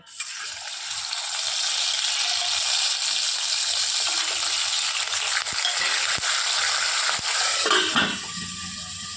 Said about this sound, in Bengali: ইলিশ মাছের মাথাগুলো দিয়ে দেব